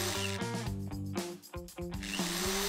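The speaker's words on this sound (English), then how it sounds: "Screwing on one side and then the other side." A power drill drives screws into a wooden bunk bed frame in several short whirring bursts, its motor pitch rising and dropping close by between brief stops.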